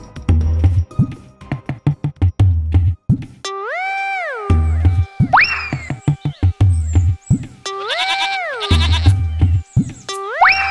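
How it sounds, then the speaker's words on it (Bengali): A cartoon goat in a Bengali fairy-tale animation bleats loudly and repeatedly in wavering, drawn-out cries, interspersed with quick rhythmic comic sound effects. "আমি এক্ষুনি ছাগলটা নিয়ে আসছি"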